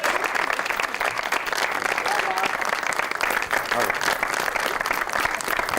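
A studio audience breaks into steady, dense applause greeting Ustad Hamid Ali Khan on an Eid special broadcast, the clapping continuous and fairly loud throughout.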